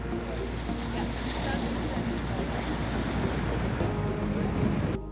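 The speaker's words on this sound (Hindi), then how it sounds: "बगल में समुंदर जैसे उछाल मारता रहता है" Sea waves surge and wash against the shore in the Maldives, a steady, loud roar of surf mixed with wind buffeting the microphone, with no voices.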